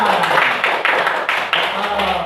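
A class of students in a biology lesson claps together in a steady, rhythmic burst of close hand claps lasting a couple of seconds, with some voices under it.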